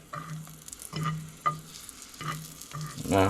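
Wild mushrooms and garlic sizzle in butter in a pan, with several scraping stirs and spoon clacks at irregular intervals and a short rattling burst at the end.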